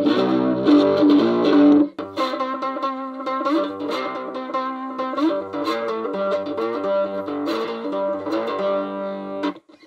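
A twangy homemade cigar box guitar plays through a distorted amplifier, strummed chords and picked notes ringing close and loud, with buzzy overdrive.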